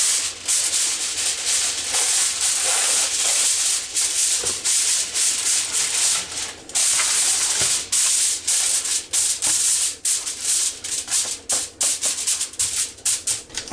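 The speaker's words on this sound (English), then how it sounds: "I'm going to line my pan here with aluminum foil." Aluminum foil being pulled and pressed into a pan for baby back ribs, giving a loud, close, continuous crinkling and rustling with brief pauses and no speech.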